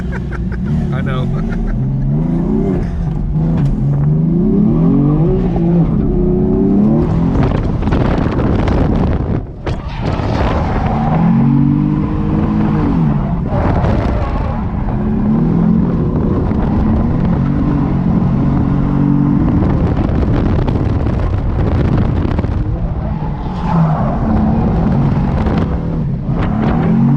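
A truck pulls hard at a July 4th drift event, its engine roaring steadily up close for the length of the run, with buffeting wind noise on the microphone and occasional talk from people riding inside.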